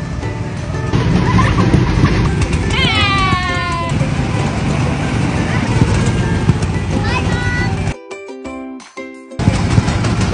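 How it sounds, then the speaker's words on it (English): Go-karts circling a track at a family fun center, engine drone steady and loud throughout, with high children's voices and shrieks breaking in over the motors and a brief dropout near the end. "Next, we moved on to go-karts"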